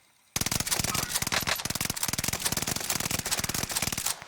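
UGM gun firing in the Warzone video game, a sustained rapid burst of dense, crackling automatic gunfire lasting about four seconds, loud and continuous with no pauses.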